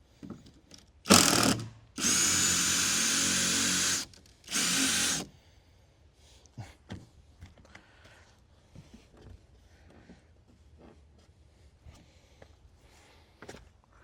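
A power drill drives screws into the wood of a lawn mower shed: three loud whirring bursts in quick succession, followed by quieter handling clicks, taps and footsteps.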